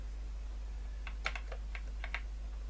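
Sparse taps on a ZX81 computer keyboard, about eight light key presses in two short clusters over a steady low electrical hum, close and faint.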